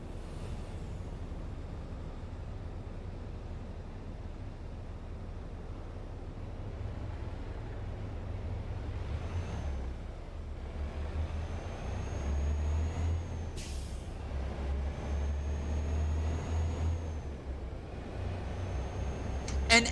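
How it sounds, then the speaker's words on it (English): A Freightliner 5th gen Cascadia semi truck in American Truck Simulator, its engine droning as a steady low rumble with a faint whine, ending with a brief hiss, and no voices. "engine sounds today are default SES that did come with the 5th gen Cascadia"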